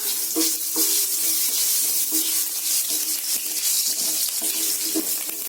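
Mustard seeds spluttering in hot oil while mint rice cooks, giving a steady hiss with small irregular pops throughout.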